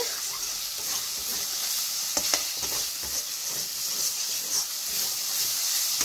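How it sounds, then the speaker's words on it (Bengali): Spice paste for doi rui fish curry fries in oil in a pan, a steady close sizzle and hiss with occasional stirring scrapes and pops, no talking. "মশলা আমার ভালো করে কষানো হয়ে গেছে। মশলা গা দিয়ে তেল ছেড়ে দিয়েছে।"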